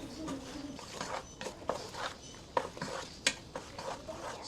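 A spoon stirs butter into hot drained macaroni noodles in a pot, making soft, irregular clinks and squishy scraping at close range with no talking.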